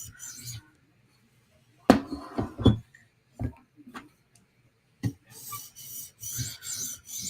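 A knife edge is worked over a whetstone to remove a burr near the tip, giving sharp scraping strokes and clicks in uneven bursts separated by silent pauses.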